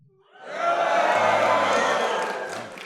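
Live audience at a Reason Weekend event in Pasadena cheering and whooping together, swelling quickly into a loud, sustained roar that eases off slightly toward the end.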